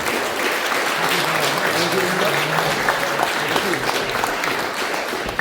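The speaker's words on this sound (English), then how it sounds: "So thank you for giving a big applause." Loud, dense applause from an audience at a political conference, a steady unbroken wash of clapping lasting several seconds with faint crowd murmur underneath.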